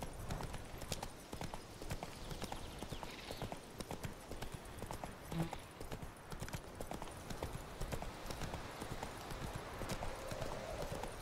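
Geralt's horse Roach galloping in The Witcher 3: a quick, continuous clip-clop of hooves pounding steadily throughout, fairly close, with a faint whinny partway through.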